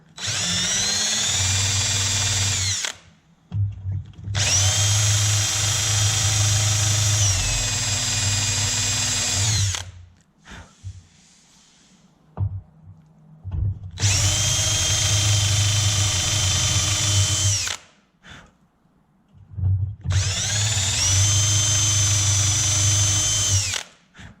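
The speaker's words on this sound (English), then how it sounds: "make sure you're being real careful and drilling down the very center of that rivet" A power drill bores out a rivet in an aircraft wing spar, running loud and steady in four bursts of several seconds each, with short pauses in between and no talking.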